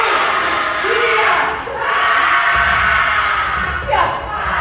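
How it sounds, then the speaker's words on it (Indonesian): A throbbing heartbeat effect plays during an Indonesian theatre performance, a low pulsing hum under a wash of broadband noise. "Ini bunyi jantung kamu."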